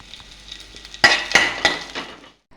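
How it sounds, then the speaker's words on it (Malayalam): Metal spatula scraping and clinking against a pan in a few quick strokes, with a soft, steady sizzle of grated coconut frying underneath. "ഇനി നമ്മുടെ ഈ തേങ്ങയൊന്ന് വറുത്തെടുക്കണം ഒരു ബ്രൗൺ നിറമാകുന്നത് വരെ വറുത്തെടുക്കണം"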